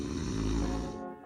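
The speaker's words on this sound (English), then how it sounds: "all the soft tissue around your throat vibrates, causing that awful snoring sound" One loud, rasping snore from a sleeper, with the soft tissue of the throat vibrating on the in-breath. It is heard close and alone, then fades out at the end.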